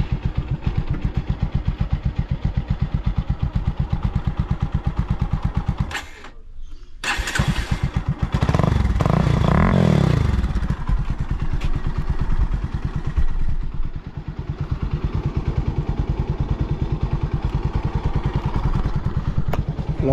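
A motorcycle with an aftermarket exhaust idles with a loud, steady, rapid thump close by, cuts out briefly near the middle, then restarts and revs before settling back into a throbbing idle.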